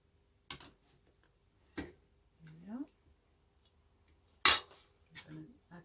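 Moroccan harira soup with pulses and lamb is served into bowls: a handful of sharp, separate clinks of a utensil against pot and bowl ring out with quiet gaps between them, and a brief voice is heard.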